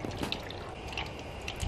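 Demineralised water poured into the engine bay of a Ford FG Turbo during a coolant service, a soft, steady trickle and splash with faint drips, fairly quiet and continuous throughout.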